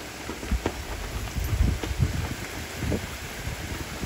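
Heavy raindrops pelt down during a Texas summer rainstorm, a dense steady patter with louder irregular thumps of big drops and some gusting wind noise, close to the microphone with no talking.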